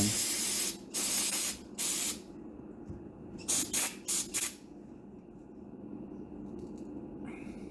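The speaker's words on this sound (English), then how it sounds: "go ahead and spray this all down, brake clean" Sharp aerosol bursts of brake cleaner sprayed onto the old brakes of a 1948 Packard Super 8, several short hisses in a row, then a quieter stretch with faint background noise.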